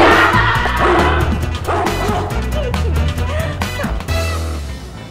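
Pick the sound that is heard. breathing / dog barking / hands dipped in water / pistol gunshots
dog barking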